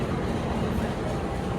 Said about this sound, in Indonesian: Hari ini naik kereta api Fajar Utama Jogja, kita ditarik pakai 2 lokomotif, 206 dan 204 teman-teman.